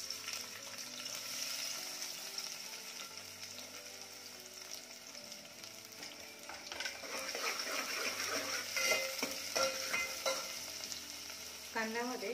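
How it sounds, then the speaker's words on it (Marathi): Onion hitting hot oil in a pan, first a low steady fry, then a louder, crackling sizzle with stirring and scraping that builds toward the end. "तेल छान गरम झालं, यामध्ये टाकूयात कांदा."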